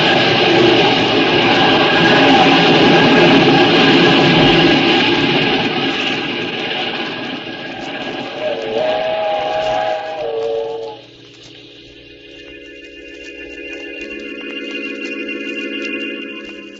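A steam train roars past in a radio drama sound effect, a loud rushing rumble and hiss that fades, then a long steam whistle sounds in steady tones at the end.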